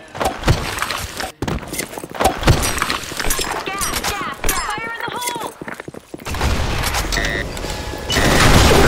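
Gunfire and a grenade blast in a first-person shooter sound as scattered sharp cracks and a louder burst toward the end, with players talking urgently throughout.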